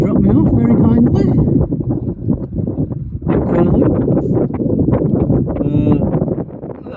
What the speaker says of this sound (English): I need to get out of the wind